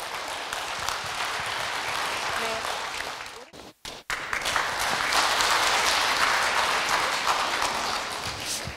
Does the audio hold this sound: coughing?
no